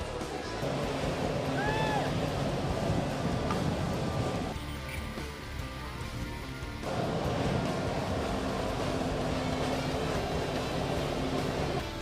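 A jet ski roars steadily on open water, driving a flyboard through its hose. The engine gives a loud, unbroken wash of noise mixed with splashing spray and wind buffeting the microphone, briefly dipping and then swelling again.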